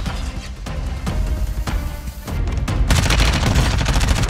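Rapid gunshots in the shooter game Warzone crack out in quick bursts, loud and close, building into a denser volley toward the end.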